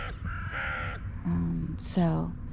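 Crows caw at feeding time, a few close, harsh calls spaced across the moment, with a person's voice briefly mixed in.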